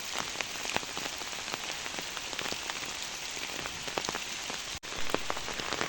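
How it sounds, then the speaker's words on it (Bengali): Heavy rain pours steadily at a goat farm, a dense, continuous wash of drops hitting surfaces close by, with no voices over it. "এইভাবে বৃষ্টি দেখতেছি কমার মতো না"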